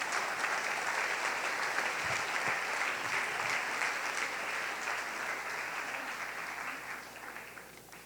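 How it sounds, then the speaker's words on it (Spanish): A church congregation applauding during a Sunday service, steady sustained clapping from many people that slowly fades toward the end. "denle un aplauso al Rey"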